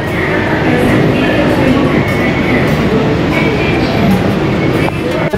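A Bangkok Skytrain car rumbles along the track, a loud, steady rolling roar with faint rail clatter heard from inside, while voices murmur in the background.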